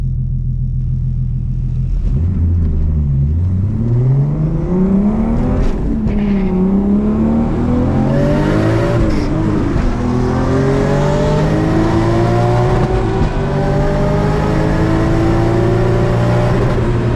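An IS300 with a 1.5JZ engine makes a drag strip run, its loud engine accelerating hard and revving up through the gears with rising pitch, close and continuous.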